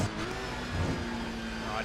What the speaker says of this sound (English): Oh, these cars do sound absolutely awesome.